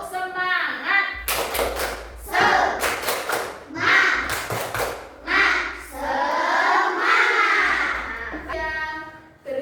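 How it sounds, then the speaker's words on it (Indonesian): A class of children performs a rhythmic clap chant in a classroom, bursts of group clapping alternating with chanted voices, loud and close, with an adult voice leading between rounds. "Kita tepuk semangat dulu ya."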